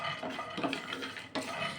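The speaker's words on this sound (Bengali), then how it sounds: "দিয়ে দিলাম কয়েকটি বাদাম আর 2টো শুকনো লঙ্কা।" A few nuts and two dried red chillies drop into a pan to roast for a capsicum dish. Light clattering and rattling against the metal comes close up, with small scraping stirs and no talk.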